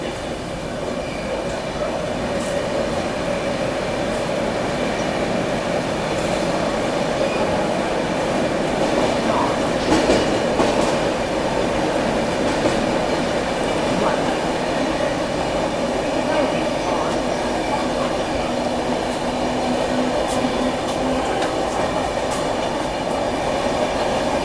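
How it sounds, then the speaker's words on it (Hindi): A New Delhi–Varanasi Vande Bharat Express passes close alongside a moving Rajdhani Express near Tundla Junction, a steady loud rumble of wheels and rushing air filling the whole stretch, with faint clatter and a brief rise midway. "बगल से ही क्रॉस हो रही है अपनी नई दिल्ली वाराणसी वंदे भारत एक्सप्रेस"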